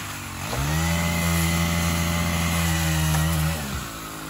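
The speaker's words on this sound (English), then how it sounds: "That is a chainsaw" A chainsaw revs up and runs loud and steady for about three seconds, then drops back, its engine roar close and dominant.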